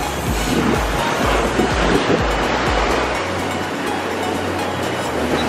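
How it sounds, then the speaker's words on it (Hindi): Ocean waves wash and break steadily onto a beach in Bohol, Philippines, a loud, continuous surf roar mixed with low rumbling wind buffeting the microphone. "लहरों का आनंद ले सकते हैं।"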